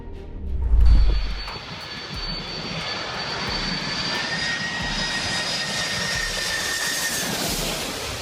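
A jet aircraft's engines roar steadily and loudly during an emergency landing at Tel Aviv's Ben Gurion Airport after a serious mid-flight technical malfunction, with a high whine running over the broadband rumble and a low thump near the start.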